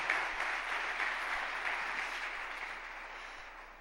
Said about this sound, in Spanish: Recibámoslos con un caluroso aplauso a ellos